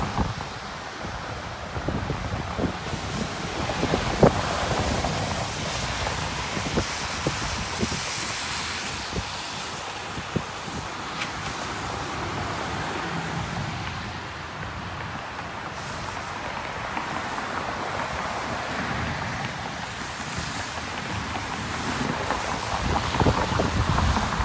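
Floodwater on Dry Creek in Cedar Rapids runs almost up to the underside of a pedestrian bridge, a steady broadband rush heard throughout and mixed with gusty wind buffeting the microphone.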